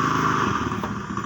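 A motorcycle engine idles steadily after a valve repair made necessary by oil starvation, its close, continuous putter holding an even level throughout.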